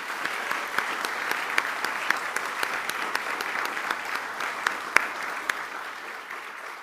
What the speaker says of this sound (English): let's give a round of applause to the families, to the sponsors who are part of this today